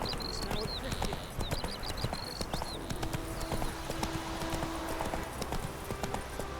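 Roach, a horse in The Witcher 3, gallops along a road in a steady run of hoofbeats, close and prominent, with a short whinny, birdsong chirps and voices talking over the hooves.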